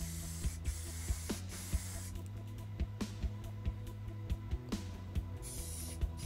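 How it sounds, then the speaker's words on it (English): Clear coat is sprayed onto a retro Specialized mountain bike frame, the spray gun hissing loudly and steadily at close range with regular soft clicks, with no talk. "here I'm much closer and I'm more definite with the spraying"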